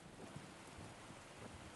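Heavy rain falls in a steady, dense hiss with a low rumble underneath, continuous and even throughout, with no voices.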